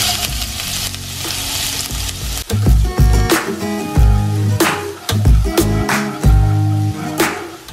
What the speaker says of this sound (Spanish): Sartén caliente y vamos a agregar cebollita.